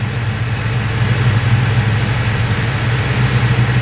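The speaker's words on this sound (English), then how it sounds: "You can hear the fans running." A steady, loud mechanical whir and low hum of cooling fans running over the idling 455 engine of a 1970 Buick Skylark, constant throughout with no voices.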